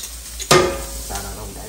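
Garlic hits a hot pan in a home kitchen and bursts into a sharp, loud sizzle, then settles into a softer frying hiss as it is stirred, with a second swell of sizzling shortly after.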